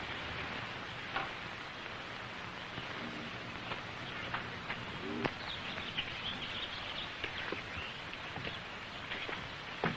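Birds chirp and call outdoors among flowers and trees in a 1931 film, scattered thin tweets over a steady hissy background noise, with no talk.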